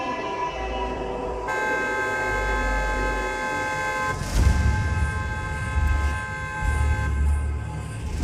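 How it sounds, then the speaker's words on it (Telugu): A train horn honks loudly in long sustained blasts over the rumble of a moving train, with a second burst of horn and low rumbling later on. "పైగా హారం కొడుతున్నాడు"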